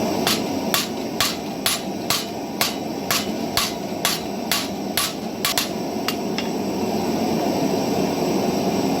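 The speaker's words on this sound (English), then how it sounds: "Everything else is going to be pretty much normal forge welding." Hammer blows forge welding iron into a knife billet, about a dozen sharp, evenly spaced strikes in a steady rhythm over a constant roar of the forge or blower.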